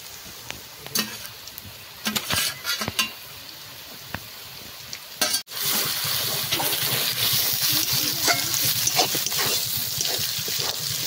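Chopped green chilli added to ginger and garlic frying in a pan for spicy masala chicken sizzles steadily and loudly after a sharp hit, with scattered stirring clicks and no talking.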